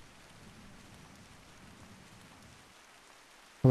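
Rain falls in a steady, soft hiss, a quiet continuous patter throughout, ending in a sudden louder knock.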